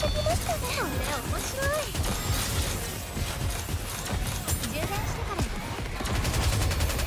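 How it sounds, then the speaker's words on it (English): A cover gun in the Nikke game fires rapid bursts of gunfire, continuous rattling shots with mechanical clatter and whistling tones throughout, fairly quiet in the mix. "Ooh, that is the cover gun."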